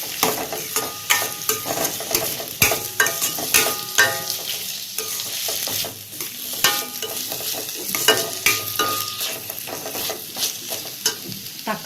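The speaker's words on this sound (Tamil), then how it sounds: "இப்போ தக்காளி சேர்த்துடலாம். இதையும் நல்லா கலந்து விடலாம்." Onions and tomatoes frying in oil for karuvadu thokku, stirred with a spoon against the pan in quick irregular scrapes over a constant close sizzle.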